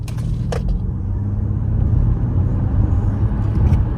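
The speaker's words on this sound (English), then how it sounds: "We'll do a quick acceleration run here." A 2023 Ford Mustang Mach-E GT electric car accelerates hard, heard from inside as a steady loud low rumble of road and motor noise with a few faint clicks, and no talk.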